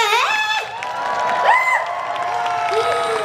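A crowd at an outdoor evening music concert cheers, shouts and whoops over scattered clapping, the voices rising and falling in lively bursts throughout.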